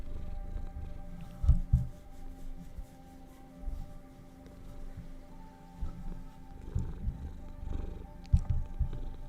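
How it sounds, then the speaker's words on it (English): A house cat purrs close to the microphone, a low continuous rumbling purr that swells and fades in regular breaths, with faint steady background hum and no talk. "Listen to this purr."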